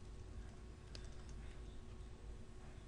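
Code being typed on a computer keyboard, a short run of soft key clicks, faint and close, under a steady low hum with no speech.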